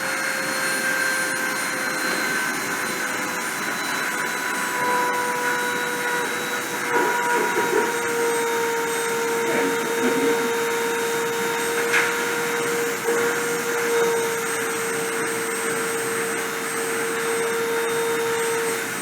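A WIN Pro spindle runs steadily during deposition, giving a continuous high-pitched whine and hum at constant level for the whole stretch, with faint clicks and no talking.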